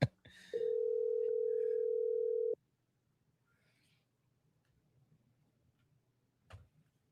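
A telephone line: a short click, then a steady loud dial or ring tone holding for about two seconds before cutting off, followed by near silence with faint clicks and a brief knock.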